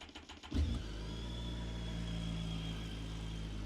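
A BMW K1300R four-cylinder motorcycle engine starts after a moment of quiet, then settles into a steady, close, loud rumbling idle with a faint whine above it.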